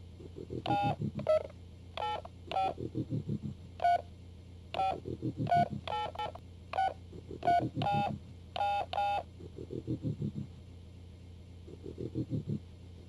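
A phone dialed in a CD-ROM video game: quick runs of bright touch-tone beeps in short bursts with brief gaps, over a low background rumble, with no talk.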